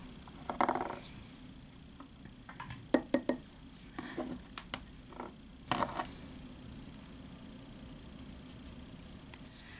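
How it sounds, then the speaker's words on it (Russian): Quiet clinks and taps of a utensil against a bowl come in scattered bursts, with stirring scrapes between them and soft background noise. "тщательно смешайте все ингредиенты"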